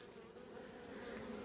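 Honey bees buzz steadily on a beehive comb as they build new comb, a continuous, fairly quiet drone with no voices.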